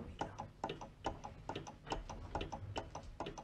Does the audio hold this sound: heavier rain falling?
no